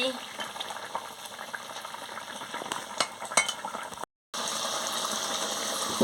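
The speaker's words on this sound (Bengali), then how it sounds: "ঘর করে ফুটছে" A sour curry of silver carp and pumpkin boils hard in a pot, giving a steady, close bubbling and sizzling that runs without a break apart from one brief cut.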